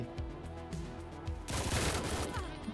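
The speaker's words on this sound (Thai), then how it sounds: "ตะกี้นี้ผมสาดกระสุนเพลินไปหน่อย" Rapid gunfire sprays bullets in the video game Action Squad: a dense, loud burst of overlapping shots erupts about halfway through, following quieter game sounds.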